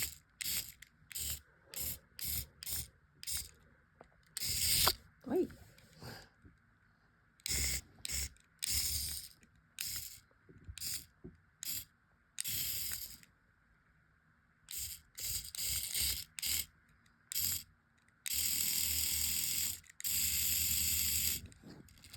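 A remote-controlled robot beetle toy whirs in short mechanical bursts of buzzing gears, starting and stopping repeatedly with silent gaps between, close and fairly quiet.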